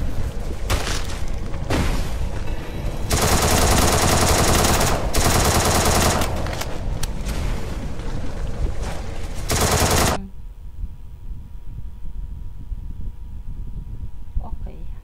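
Rapid automatic gunfire from a shooting video game pounds loudly in dense repeated bursts for about ten seconds, then cuts off abruptly, leaving a quiet background hum.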